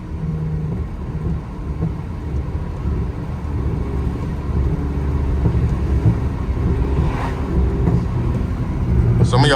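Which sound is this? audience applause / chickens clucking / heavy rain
heavy rain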